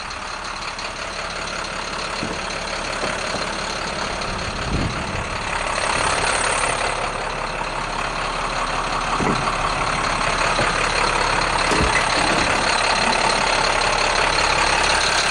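A brand-new, freshly serviced truck fitted with a cold start plug idles steadily after a cold start, its engine holding a continuous, fairly loud rumble with a few faint knocks and no talk.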